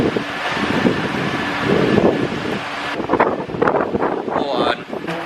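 Strong wind blowing hard at a dirt bike riding spot, a loud continuous roar of gusty buffeting across the microphone that rises and falls, with a voice talking underneath.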